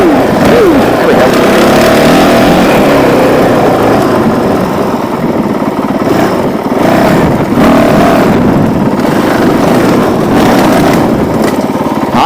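A Honda CRF450L motorcycle engine riding off-road, a loud, continuous close-up drone with rising and falling revs throughout, and a voice occasionally heard over it.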